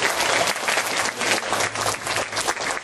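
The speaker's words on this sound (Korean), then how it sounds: "우리 하나님께 감사의 박수를 한번 드리겠습니다" An audience of children and adults at a church revival service claps steadily and evenly in thanks, a dense applause holding at full strength for the whole stretch.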